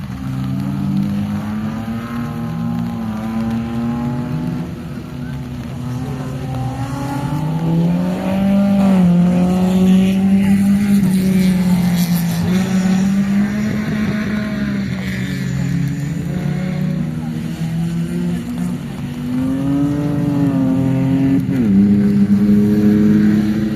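Race cars in a final, including a Lada Classic, rev and accelerate hard with rising and falling engine pitch over a long loud stretch, several engines overlapping as they pull away.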